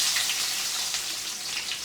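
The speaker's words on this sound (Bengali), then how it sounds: "রান্না করতেছি মুরগির মাংস।" Chicken meat cooks in a pan with a steady, even sizzling hiss throughout, fairly close and without any talking.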